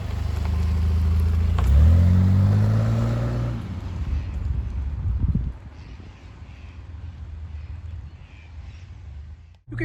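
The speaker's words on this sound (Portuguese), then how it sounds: "esse V6, ele é um som bonito, né?" An Alfa Romeo 164 with a V6 engine revs up, its rising note strong for a couple of seconds before falling back to a quieter idle under wind noise on the microphone.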